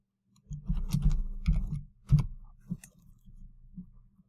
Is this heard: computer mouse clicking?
yes